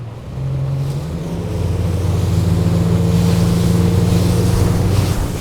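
Close, loud droning of an Axopar 22 Spyder motorboat engine running steadily at about 25 knots in a following sea, hull rushing through water, with wind and splashing over the whole stretch.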